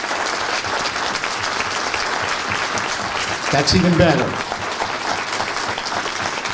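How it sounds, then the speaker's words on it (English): Audience applause at a multiple sclerosis health symposium, a burst of clapping swelling briefly mid-clip over steady room noise, with people talking before and after. "So let's give them again a round of applause for everything that they did."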